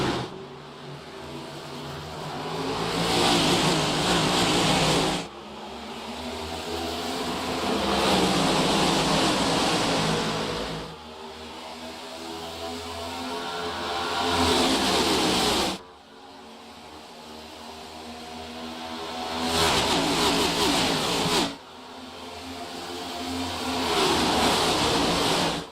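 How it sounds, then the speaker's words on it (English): Race car engines roar at the start of a Talladega race, the loud roar swelling in repeated surges with abrupt cuts between them, alone with no talk. "Sit back, let you listen to the engines roar."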